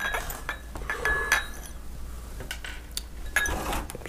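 Drinking glasses of equal height are set down on a table in an acrylic pouring workspace, giving several bright clinks and knocks scattered irregularly over a quiet background, close and without talk.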